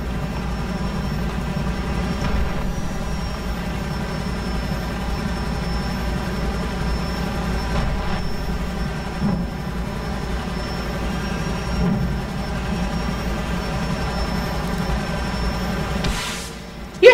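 A steady engine drone rumbles continuously as an airplane cruises in GTA 5, with a high whine on top and no talking.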